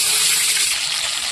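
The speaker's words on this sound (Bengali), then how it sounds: "তারপরে আলুগুলো দিয়ে দিচ্ছি।" Potatoes drop into hot oil seasoned with black cumin for a Bengali fish curry, a loud, close burst of bright frying hiss that holds steady and fades slightly.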